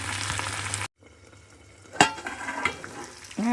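Food with chili powder and melted cheese sizzles and fries in a pan, a steady close crackle that cuts out briefly, then returns with a few scraping stirs and a light clink of utensil against the pan.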